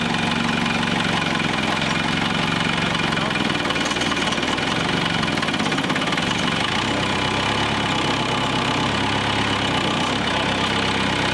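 A military grade forklift engine idles steadily and loudly after starting, a constant mid-to-low rumble with slight knocking texture, running close throughout with no pause.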